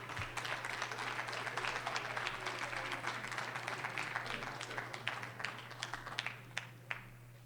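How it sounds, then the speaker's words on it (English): An audience at an evening rally claps for a singer, a dense wash of applause that thins into scattered individual claps toward the end, over a steady low electrical hum. "Let's give him a round of applause."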